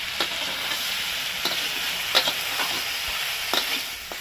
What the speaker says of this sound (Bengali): এবার এটাকে কষিয়ে নেবে